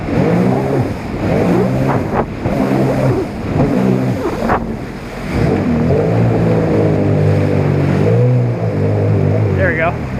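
A stock Spark RC boat with a dinged, damaged propeller does water wheelies. Its loud, high electric motor whine surges and drops repeatedly with water splashing throughout.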